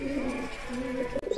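Pet pigeons on a balcony coo steadily during flight training, with close, low, throaty calls that repeat throughout without pause and no talking.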